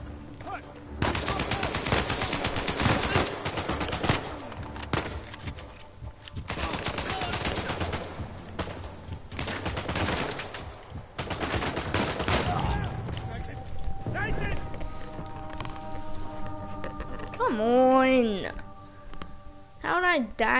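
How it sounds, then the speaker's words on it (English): Gunfire in Uncharted 4 rings out in long bursts of rapid shots that give way to quieter game sounds and a warbling tone, with a voice talking over part of it. "Did he just try to shoot me?"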